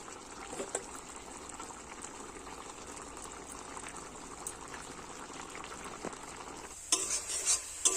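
A potato, spinach and tilapia fish curry with lentil dumplings boils in a pan, giving a steady low bubbling and sizzle, with a louder stirring clatter near the end.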